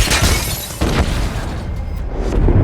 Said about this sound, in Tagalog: Isang napakalakas na pagsabog.